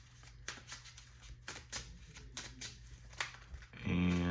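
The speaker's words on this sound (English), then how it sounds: "So we'll shuffle." Trading cards for a Teenage Mutant Ninja Turtles card game are shuffled in a few quick riffling bursts, fairly faint and close, before a louder steady tone comes in at the end.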